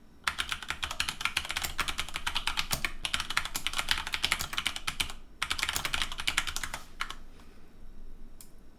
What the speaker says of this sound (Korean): 자막을 조금 입력해 볼게요.